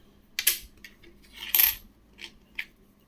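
Old Victoria Empress coins, an 1899 half pice among them, set down one by one on a hard surface, giving several sharp metallic clinks and short rattles spaced apart, close and clear with no talk.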